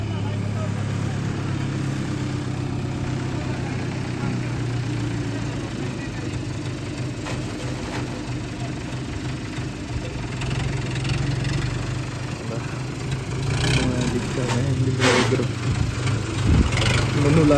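Swaraj tractor idling on a farm, a steady low engine rumble held throughout with people talking over it and a few sharper knocks near the end.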